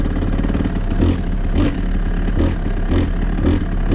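Two-stroke motorcycle engine pulls in third gear in the rain, running rich, with a loud buzzing drone that rises and falls in repeated surges and a close, rattly exhaust note.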